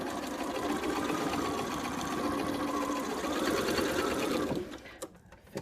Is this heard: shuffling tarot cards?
no